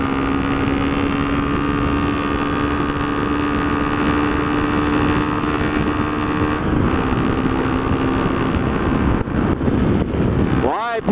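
Inside a car driving along a road, a constant loud rumble of tyres and engine fills the whole stretch, with wind noise on top and a faint swell near the end.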